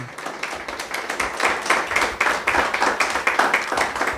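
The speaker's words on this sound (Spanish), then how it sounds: "Dale el aplauso al Señor." A church congregation claps together during a Spanish-language sermon, a dense, steady patter of hand claps with a faint rhythmic pulse that holds for the whole span without speech.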